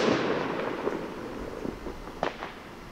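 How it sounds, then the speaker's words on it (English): Faint, distant sharp pops crack outside in a Chicago neighborhood, a few scattered bursts and a quick double report over a soft outdoor background hiss, with no talking. "I think there's some shots being fired here in Chicago."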